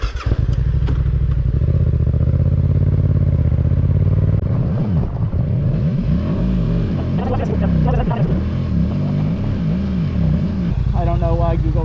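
A motorcycle rides through twisty roads near Alsea Falls, the engine droning loud and close with wind rush, then repeatedly rising and falling in revs through the bends, with a voice speaking over it.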